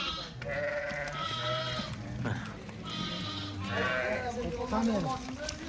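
A flock of about 400 Afghan ewes bleat repeatedly at close range, overlapping calls rising and falling, with a voice talking among them.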